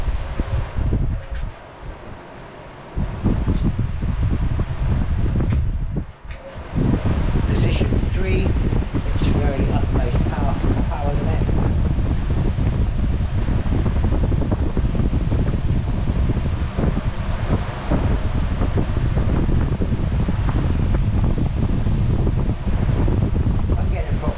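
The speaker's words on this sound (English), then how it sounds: "Very powerful, and I would consider that very quiet for a fan." A Sealey HVD16 16-inch high velocity drum fan runs close by with a steady, loud broadband rush of moving air that holds almost constant, briefly dipping near the start and around six seconds.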